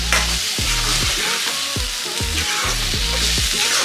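Pumpkin halwa with jaggery is stirred in a pan, a spoon scraping in steady repeated strokes through the thick mixture over a continuous soft sizzle, close and loud.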